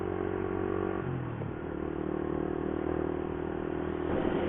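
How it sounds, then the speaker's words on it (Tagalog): Several motorcycles ride past on a road toward Burauen, their engines a steady, close rumble with some rattling and a rising rev near the end, and no voices over them. "Napakaraming motor, di ba?"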